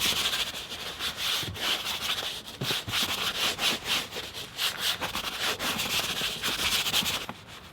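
A brush scrubs back and forth across a dirty leather car seat, giving rhythmic rasping strokes, close and steady, each swipe a short scratchy burst.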